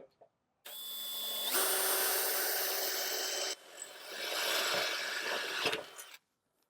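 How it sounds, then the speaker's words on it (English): A power drill whines steadily for several seconds while drilling holes in a motorized retractable screen housing, pauses briefly, then bores again before stopping, close and loud. "start drilling your holes"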